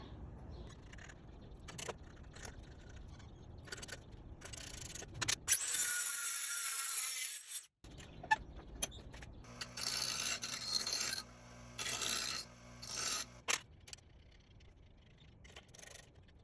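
A thread chaser is run along a bolt during a Harley-Davidson engine build, giving scattered rasping, scraping metal strokes. A brief louder burst of high grinding sits in the middle, and there is no talk.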